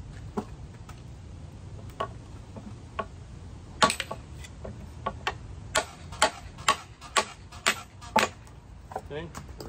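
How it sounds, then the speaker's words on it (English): A lump hammer drives an axe into a split hickory log being worked into self-bow staves outdoors: a run of sharp, close knocking strikes, sparse at first, then a quicker irregular series of hits, with faint background sound. "Get the axe in there, the lump hammer."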